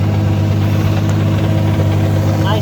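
A Toyota Supra with a freshly swapped T56 transmission and aluminum driveshaft idles up close, a loud, steady low rumble with a constant drone and no speech.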